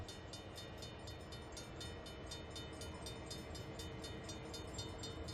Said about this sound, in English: Train is slowly coming to a stop.